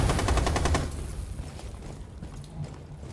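Rapid automatic gunfire in a Rainbow Six Siege ranked match, a loud burst of close shots in the first second that quickly gives way to quieter game ambience and faint distant activity.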